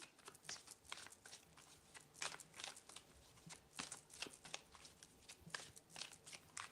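Tarot cards are shuffled by hand in a steady run of soft riffling clicks and papery crackles, close and continuous but fairly quiet.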